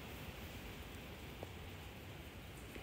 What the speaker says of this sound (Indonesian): kalian berisik gak sih kalau hujan gitu